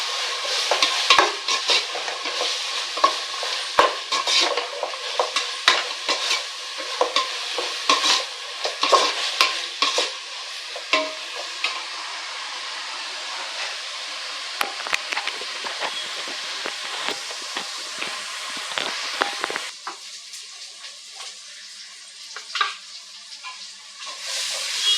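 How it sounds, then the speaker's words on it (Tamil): Masala sautéing in a pan for chicken biryani, a steady crackling sizzle broken by frequent scraping stirs of a spoon against the pan, close and continuous throughout. "பச்சை வாசனை போகிற அளவுக்கு நல்லா நம்ம வதக்கலாம்."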